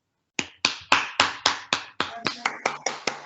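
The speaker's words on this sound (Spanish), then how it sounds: "les pido el favor a todos y todas que le demos un fuerte aplauso" Applause closes a conference presentation: a dozen sharp, evenly spaced claps ring out in a steady rhythm, close and fairly loud, each with a short room decay and no talking.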